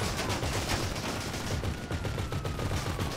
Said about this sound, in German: knall ihn ab